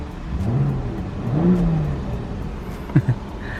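A BMW car engine revs up briefly at quarter throttle and settles, a mid-pitched rising whir under steady road noise, moderately loud and close.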